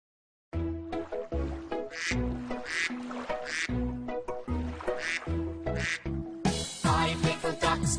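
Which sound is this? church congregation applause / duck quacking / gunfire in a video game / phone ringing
duck quacking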